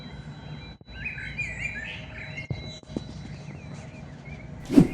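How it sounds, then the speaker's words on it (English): Birds chirp and sing steadily in the distance at dawn in Kazakhstan, high tweeting calls drifting over a quiet, still background with a soft rustle near the end. "The sky was still dark, but the birds were already singing."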